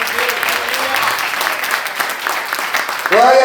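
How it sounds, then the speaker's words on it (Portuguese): A church congregation applauds steadily as a dense wash of clapping, with brief voices rising over it near the end. "Aplaude Jesus porque Ele merece."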